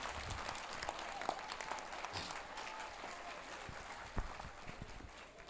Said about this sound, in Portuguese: Aplauda essa jovem corajosa